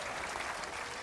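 Dense, steady applause from a crowd of about 2000 spectators at the 2009 European petanque championship, filling the entire moment with continuous clapping and no break.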